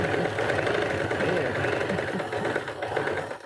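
Sewing machine stitching across a quilt block seam, a close, steady mechanical rattle running throughout with a voice talking over it.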